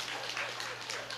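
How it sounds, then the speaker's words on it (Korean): A Buddhist sermon hall where the audience breaks into steady, dense applause after a monk's joke about the boiling-water hell, the clapping filling the room at moderate level with no clear speech on top. "그 박수 칠 일이 아닌데"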